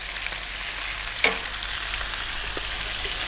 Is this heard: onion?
yes